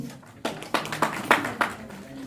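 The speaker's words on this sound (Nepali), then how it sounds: "मान्य सदस्यहरूले जोस जागरका साथ ताली बजेको छैन।" Scattered hand claps from council members at a rural municipal assembly session as a bill is passed: five or six distinct, fairly loud claps spaced irregularly over a couple of seconds, with no steady applause building.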